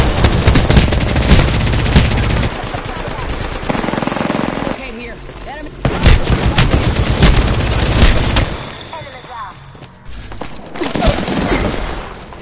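A PS4 shooter game fills the mix with dense bursts of machine-gun fire and booming explosions, rapid volleys stopping and starting, while a player talks over the battle.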